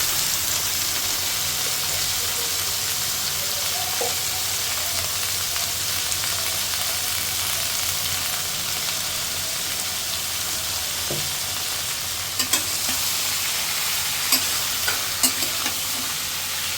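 Mixed vegetables and leafy greens frying with cumin in a pan, a steady hissing sizzle with occasional stirring scrapes and light clinks toward the end, near and even, with no speech.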